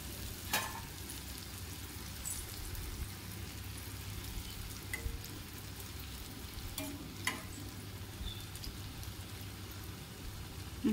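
Jalebi frying in hot oil, a soft continuous sizzle and bubbling with faint crackles, steady and close with no talking.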